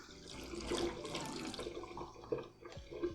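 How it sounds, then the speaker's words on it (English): Tap water running and splashing steadily for a few seconds as three tablespoons are added to a blender jar holding ice cubes for whipped green lemonade, fairly quiet and close with no talking. "To this I just add 3 tablespoons of water just to help with the blending."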